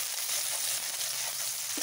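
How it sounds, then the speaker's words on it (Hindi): Garlic and green chillies sizzle steadily in hot oil in a home kitchen pan, a soft continuous frying hiss with faint crackles throughout, close and unaccompanied by speech. "थोड़ा सा फ्राई कर लें।"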